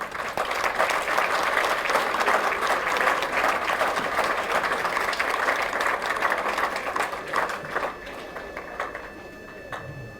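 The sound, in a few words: graduates applauding at a university convocation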